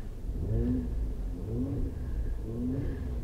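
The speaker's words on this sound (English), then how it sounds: "I'm gonna give it a little bit of gas so you can even hear from inside." Heard from inside the cabin of a 2017 Mercedes-AMG C43 convertible, the engine hums low and muffled, with three gentle rising revs over a steady background rumble.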